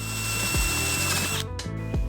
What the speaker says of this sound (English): if I drill through this and the drill suddenly grabs and shoots down